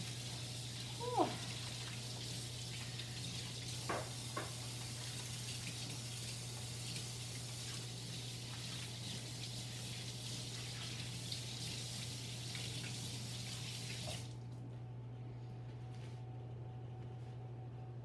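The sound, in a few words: hands being washed under running tap water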